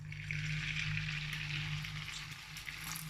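Beaten eggs sizzle and crackle in about two tablespoons of hot oil as they spread into an omelette, a steady, close frying hiss that continues without pause.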